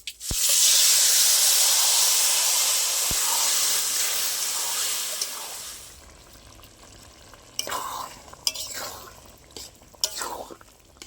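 Cooked bottle gourd dropped into hot tempering with curry leaves gives a loud, bright sizzle that fades over about six seconds, then leaves quieter scattered stirring clinks and scrapes.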